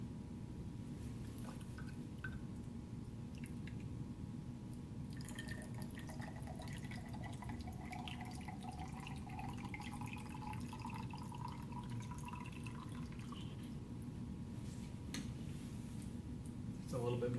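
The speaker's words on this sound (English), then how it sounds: "you go to the sink and you fill up your graduated cylinder" Water from a sink faucet running into a graduated cylinder in a classroom lab, a soft steady trickle with the pitch rising as it fills, faint under a low room hum.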